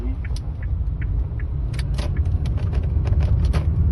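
A car driving along a road in the morning, a steady low engine and road rumble filling the whole stretch, with some faint jangling and clicks on top and no clear talk.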